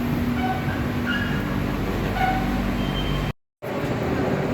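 A metro train in Portugal rumbles along steadily, with low droning noise and occasional faint squeals and clicks from the rails, no talking.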